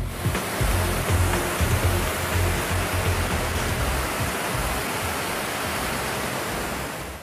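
A Karcher HDS 10/20-4 M hot-water high-pressure cleaner sprays water in a steady, loud, hissing rush that continues unbroken throughout.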